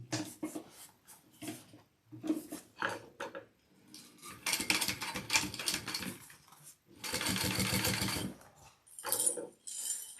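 Sewing machine top stitching a seam on a Dulcinea garment, running in several bursts of steady mechanical whirring, the longest and loudest near the end, with short pauses between runs.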